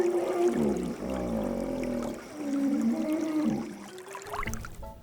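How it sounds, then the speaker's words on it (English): A hippopotamus calling, a deep resonant series of grunting, wheezing honks with watery, gurgling tones, loud and close, rising and falling over several seconds with no voices. "Do you know what sound a hippo makes? Well, they sound like this."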